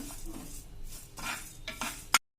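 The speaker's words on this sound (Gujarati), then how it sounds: "હવે આ બધું આપણે મીડિયમ ફ્લેમ ઉપર આપણે રોસ્ટ કરશું" Cumin and spices roast in a pan over a medium flame, with scraping stirs and light metallic clinks of a utensil against the pan, ending on a sharp tap.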